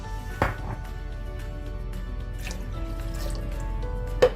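Water pours over soaked tur dal (split pigeon peas) in a pot while making okra sambar, a wet dripping and splashing sound with a sharp splash near the start and trickling throughout, close and fairly quiet.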